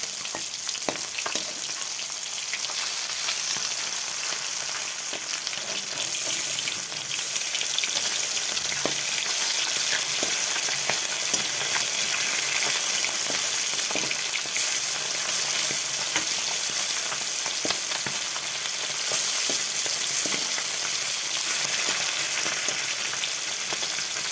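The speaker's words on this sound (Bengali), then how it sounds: "তো মাছগুলো হয়ে গেছে বন্ধুরা, আমি উল্টে দিচ্ছি।" Long, even crackle of fish pieces frying in oil, with occasional spatters and soft scraping as the pieces are turned; no voices.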